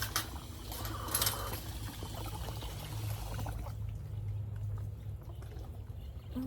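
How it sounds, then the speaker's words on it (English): Water runs steadily from a hose or tap inside a backyard chicken coop in an urban homestead, a continuous pouring wash with a brighter splash early on that softens and thins toward the end. "Let me turn this water off before this coop floods again."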